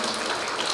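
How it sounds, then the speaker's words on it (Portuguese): Audience applause at a Spiritist conference hall, a dense steady patter of many hands clapping, moderately loud and continuous throughout the short moment. "já que vocês me aplaudiram"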